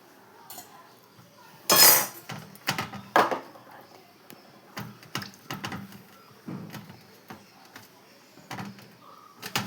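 A knife cuts through a thick aloe vera leaf in a home kitchen, giving close, irregular sharp knocks and clicks against a surface with quiet pauses between them.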